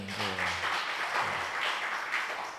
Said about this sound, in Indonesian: Tepuk tangan dong buat Pak Jimmy